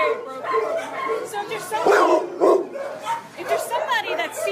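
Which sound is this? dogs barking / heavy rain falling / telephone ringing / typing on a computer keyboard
dogs barking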